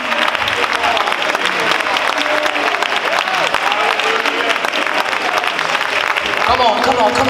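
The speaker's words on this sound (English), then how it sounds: "I want you to clap your hands, open your mouths, and thank them without music." A church congregation claps hands together without music, a dense, steady, loud wave of applause running throughout, with a voice calling out over it.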